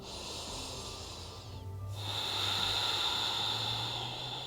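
Single deep breath during a yoga session: a long, close, airy inhale followed by a fuller hissing exhale, soft and steady with no talking.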